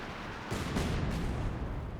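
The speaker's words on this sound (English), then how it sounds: "Looks like we do got another light artillery barrage coming on down." A light artillery barrage in Company of Heroes 2, a dull booming rumble of distant shell impacts rolling in over a couple of seconds, broad and muffled with no voices.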